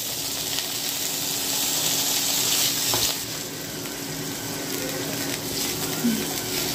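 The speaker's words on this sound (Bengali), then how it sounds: "তেলটা গরম হয়ে এসেছে, এর ভিতরে আমি আলুগুলো ভেজে নেব।" Potato pieces frying in hot oil in a pan, a loud, dense, continuous sizzle that crackles throughout with no pauses.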